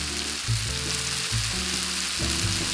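Tomatoes fry and start to burst in a pan while being moved around, a steady broadband sizzle running over soft tonal music in the background.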